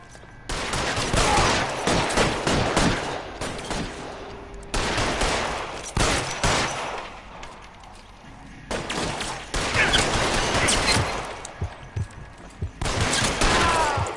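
Gunfire in L.A. Noire, loud overlapping volleys of shots in several bursts separated by short lulls, close and harsh with no talk over it.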